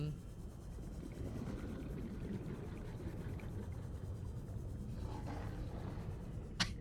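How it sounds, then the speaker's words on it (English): A sand shark creature in Subnautica growls with a deep, rumbling, tiger-like roar, low and sustained, with a sharp brief accent near the end. "He sounds like a tiger or a lion."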